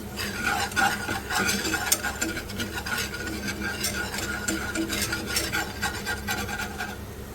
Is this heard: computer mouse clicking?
no